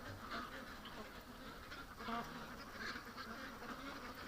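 Ducks quacking at night outdoors near a boat, faint and distant, a low scattered chorus of calls over steady background noise.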